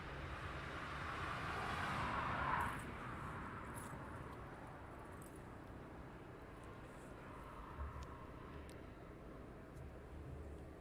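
A Bluebird Nordic cargo plane departs East Midlands Airport at night, a distant jet roar that swells over the first few seconds and then fades to a faint, steady rumble.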